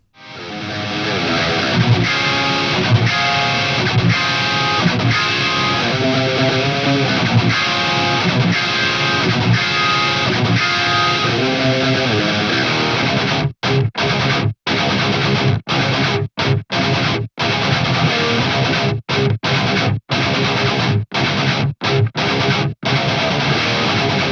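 Heavily distorted electric guitar through an ENGL Powerball II high-gain amp plays loud, tight riffs without pause, ending in sharp staccato chugs separated by brief silences.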